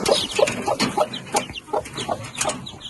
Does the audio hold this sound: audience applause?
no